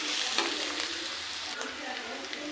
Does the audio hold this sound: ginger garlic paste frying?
yes